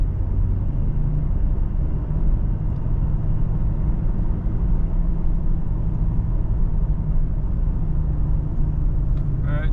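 A Toyota Tacoma pickup with a manual gearbox accelerates in third gear, its engine a steady, droning low rumble heard from inside the cab, loud and continuous with no clear rise in pitch.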